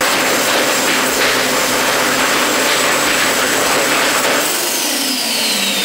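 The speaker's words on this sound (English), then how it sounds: "what happens with the header and the turbo on a dyno rig" A turbocharged engine runs on a dyno rig with header and turbo glowing hot, producing a loud, sustained roaring whoosh with a high turbo whine, steady and close throughout.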